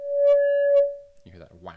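A sine wave runs through a synth filter with the resonance turned up, giving a steady, clean tone that brightens with overtones near its start and end. It stops after under a second, and a voice then talks.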